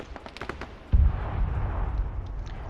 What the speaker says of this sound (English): I just heard another explosion